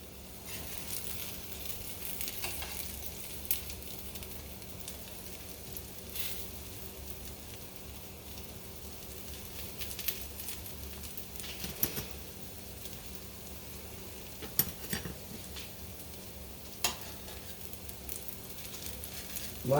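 Potato patties frying in an iron skillet give a low, steady sizzle, with scattered sharper pops and spatters and occasional clinks throughout, fairly quiet and unbroken by speech.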